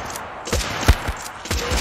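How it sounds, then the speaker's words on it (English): Rapid gunfire in a zombie video game, several sharp shots in quick succession with a heavier bang near the middle, over a busy background. "there's so many gunshots and so many zombies"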